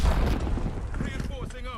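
A frag grenade goes off in Call of Duty Black Ops 6, a loud, close boom with dense low rumble and crackling debris over less than two seconds, mixed with game chatter and effects.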